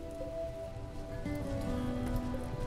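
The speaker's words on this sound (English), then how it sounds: "it's raining" Steady rain falls in RimWorld, a continuous soft hiss of drops with no breaks, a faint tonal hum running underneath throughout.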